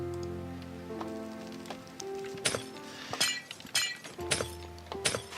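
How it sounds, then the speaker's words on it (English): Objects smash and break in a video game, a series of sharp shattering crashes and clinks arriving irregularly over a background of game music. "All that smashing, and I didn't even put a dent in this place."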